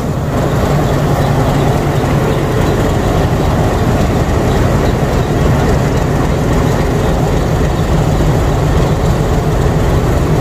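A train rumbles loudly and steadily at Kamalapur railway station in Dhaka, a dense, continuous roar of rolling wheels and heavy engine noise close by, without pause.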